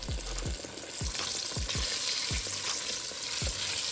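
Crusted chicken-fried chicken fries in a pan of hot oil, a continuous near sizzle broken by regular low thudding knocks every half second or so, with no voices.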